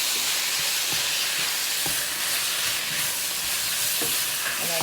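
Onion, garlic and ginger stir-fry in hot oil for a shrimp and vegetable dish, giving a loud, continuous hiss and sizzle with intermittent scraping strokes of the spatula against the pan, close up.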